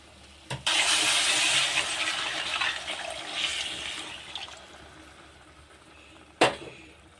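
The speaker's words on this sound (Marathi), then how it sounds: "आता मी याच्यामध्ये पाणी ॲड करणार आहे" A large glass of water pours steadily into frying prawn masala gravy in a loud, hissing rush for several seconds, tapering off, framed by two sharp clinks at the start and end.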